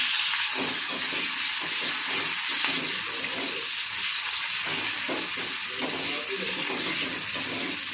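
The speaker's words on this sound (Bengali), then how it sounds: "এবার দিয়ে দেবো পেঁয়াজ কুচি।" Chopped onion fries in a pan of oil with dried red chillies, whole cumin and bay leaf, a steady hissing sizzle with soft bubbling, heard close and even throughout without speech.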